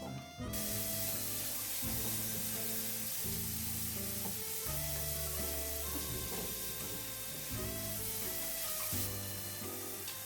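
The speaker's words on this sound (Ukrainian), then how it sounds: "Протушкуємо все це на сковорідці на невеличкій кількості олії разом із одним курячим філе" Steady, loud sizzling of diced chicken fillet and carrots frying in a little oil in a pan runs throughout, with music playing underneath and no talking.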